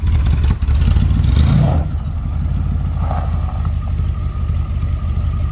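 A 1978 Dodge van's engine runs during a drive, a loud, steady low rumble with a brief rise in revs early on, then a constant drone. No one speaks.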